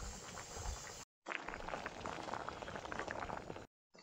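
Prawn malai curry bubbles briskly in a pot, a dense, close rolling boil that cuts out abruptly twice for a moment before resuming.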